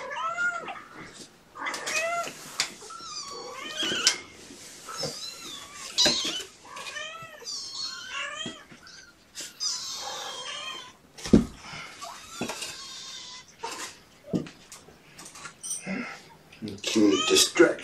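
Several kittens meow repeatedly in high, squeaky cries that overlap and rise at times into louder wails, close by, while someone talks to them intermittently.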